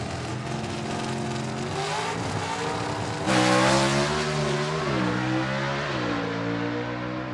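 A gasser drag race car launches hard down the strip at a Southeast Gassers Association event: a loud, continuous engine roar that surges sharply midway, with the revs climbing and shifting as it pulls away.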